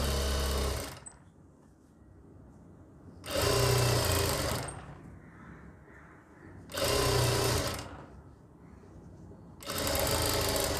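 Kameez lining being sewn: a close sewing machine runs in four bursts of rapid mechanical whirring, each a couple of seconds long, separated by quieter gaps with faint handling sounds.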